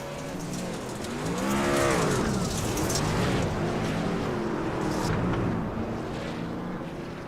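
Race cars rounding an oval track on the final lap of the Margarita Bowl, engines swelling and fading as they pass with a sweeping pitch, heard from a distance over steady crowd and track ambience.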